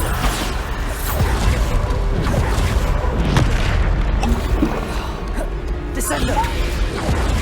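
Bombarda blasting spell cast in Hogwarts Legacy, a dense game soundscape with repeated heavy booms and bursts over a steady, loud rumbling bed, with voices heard alongside.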